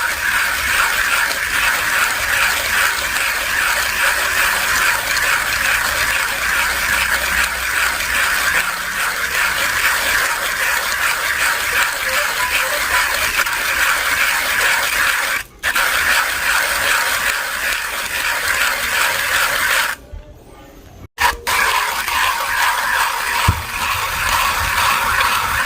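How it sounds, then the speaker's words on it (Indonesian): A hand-cranked manual coffee grinder crushing coffee beans produces a continuous close, gritty ratcheting crunch. It runs steadily for most of the stretch, with a brief break partway and a short pause near the end. "Kenapa saya suka manual grinder?"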